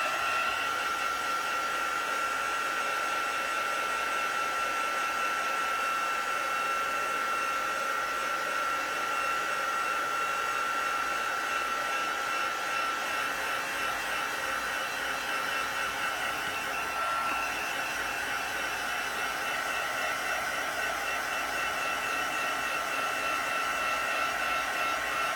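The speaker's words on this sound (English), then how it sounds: "and then I'll dry." A hair dryer blowing steadily to dry distress oxide ink on paper, a continuous loud whirring hiss with a steady high whine that runs unbroken and close for the whole stretch, with no talking.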